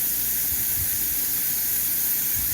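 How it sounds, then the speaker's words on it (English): Steady, loud airy hiss of Createx paint spraying from an Iwata airbrush, continuous without pause. "Let me just spray that out."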